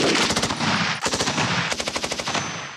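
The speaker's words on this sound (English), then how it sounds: "They'll use live ammunition," Live-ammunition automatic gunfire at an army training range, long rapid bursts of loud close shots with a brief break between them.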